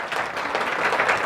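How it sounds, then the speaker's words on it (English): A live audience applauds at a talk while a first hard-copy book on yoga is held up, with broadband clapping that runs steadily and fairly loudly through the whole short moment and has no speech over it. "Some people are applauding."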